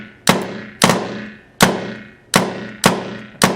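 Tippmann 98 Custom paintball marker with a response trigger, the tuning screw backed all the way out, firing six sharp, loud shots spaced roughly half a second to a second apart, each a punchy crack with a short decaying tail.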